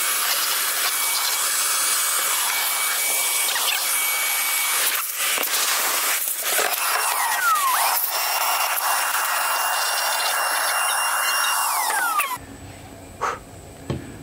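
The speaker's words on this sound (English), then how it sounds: "take a vacuum" A steady, loud whooshing hiss of a vacuum cleaning out a sunken Falcon 330HT boat, running continuously for about twelve seconds, with suction pitch shifts, then cutting off abruptly into near quiet.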